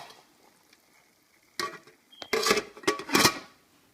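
A lid clatters onto a pot of braised pork organs marinating in sauce at a Cambodian village cooking spot, a few close metallic clanks and rattles in quick succession after a quiet stretch.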